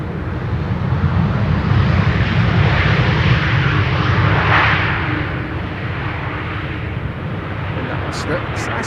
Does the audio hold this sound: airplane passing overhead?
yes